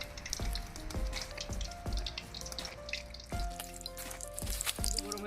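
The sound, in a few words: onion frying in hot oil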